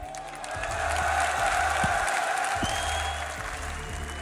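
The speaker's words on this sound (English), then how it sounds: "Let's get a little clap going, shall we?" A crowd at a live esports grand final, Astralis vs. Na'Vi at DreamHack Masters Marseille, claps in dense, sustained applause, loud and steady from start to finish, with some cheering mixed in.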